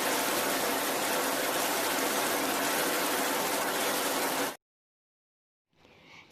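A dense, steady hiss of heavy rain pouring down for several seconds, then cutting off abruptly into near silence.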